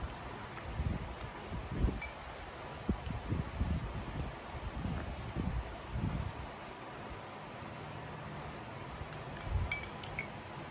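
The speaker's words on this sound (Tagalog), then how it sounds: "ngayon pa lumakas yung hangin" Strong gusty wind during heavy rain at night buffets the microphone in low rumbling bursts, strongest early on, with faint rustling and a few small clinks in the background.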